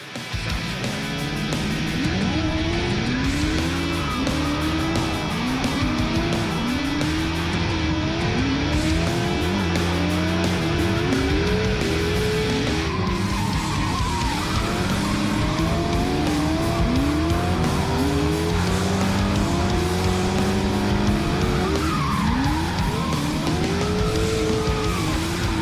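A newly built hot rod drives hard at the Freedom Factory, engine revving up and down continuously with repeated squealing tire skids, loud and close throughout.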